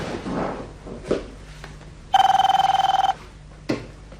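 A telephone rings once, a loud, steady trilling bell lasting about a second. Softer room noise and a few dull knocks come before and after it.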